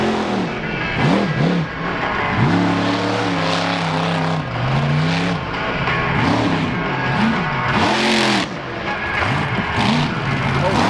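A 4x4 truck engine revs hard in rising and falling sweeps as it spins a dusty freestyle donut at a 4-wheel jamboree in Indianapolis, loud and close under continuous commentary.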